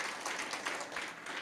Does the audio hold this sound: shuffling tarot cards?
no